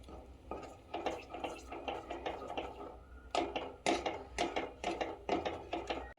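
A spoon scrapes and clinks against a pan while seven cup burfi mixture is stirred, giving rhythmic bursts of metallic scraping in short repeated strokes, close and fairly loud.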